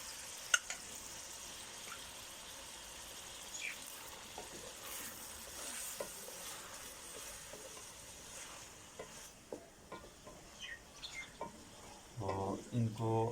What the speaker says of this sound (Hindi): अच्छी तरह भूनेंगे प्याज को। तो अब इसमें डालेंगे टमाटर।